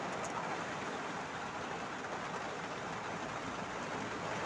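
Heavy rain pours down in a steady, dense broadband hiss, continuous and fairly faint, with no voices over it.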